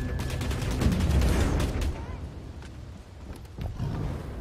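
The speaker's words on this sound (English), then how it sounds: "The AK sounds like, has like a deeper gunshot sound." Rapid bursts of AK rifle fire crackle in Bloodhunt, the shots coming fast, heavy and deep, with people talking over the action.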